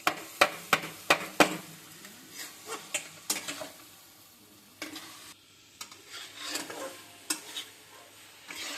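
Boiled noodles are stir-fried for egg chow mein with rapid rhythmic clanks and scrapes of a spatula against the pan over a constant sizzle, close and loud, with no voices.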